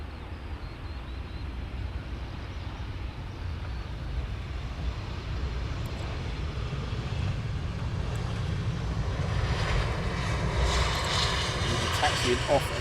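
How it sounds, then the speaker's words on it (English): An airliner landing at Luton Airport with spoilers up and reverse thrust applied gives a loud, broad roar of engines and rushing air that builds steadily over the whole stretch, heard from inside the cabin. "Spoilers and reverse thrust."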